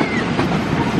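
Passenger train departing behind a CC203 diesel locomotive at Bandung station, a steady loud rumble of engine and rolling wagons with faint rail clatter, no talk.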